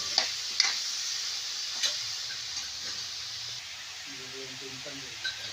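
Spices and oil being stirred into soybean curry in a pot on a wood-fired stove, giving a faint hiss with occasional soft taps and scrapes.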